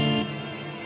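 Sustained shimmering reverb tail from an EarthQuaker Devices Astral Destiny pedal on guitar, a dense chorused wash that decays smoothly after a brief louder onset, alone with no talk.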